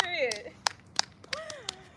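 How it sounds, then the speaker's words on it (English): Several sharp hand claps land at a steady, loose pace under a person talking outdoors during a handstand warm-up session. "Round of applause to all the cheerleaders out there cheering on folks."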